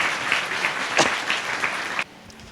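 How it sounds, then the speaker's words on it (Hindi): A church congregation at a Sunday service claps loudly and together, a thick burst of applause with a few sharper beats that stops abruptly near the end, leaving a quiet room. "परमेश्वर के लिए एक बार जोर से ताली बजा के धन्यवाद देंगे।"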